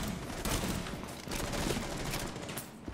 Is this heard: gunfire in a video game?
yes